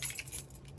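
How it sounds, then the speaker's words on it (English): Keys jangle briefly in a bright metallic shimmer as they are placed into a Kipling diaper bag with Ju-Ju-Be accessories, a short close rattle with no talk. "Or you could just put your keys on there."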